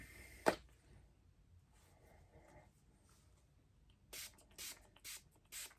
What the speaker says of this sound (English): Make sure I spray the whole entire pad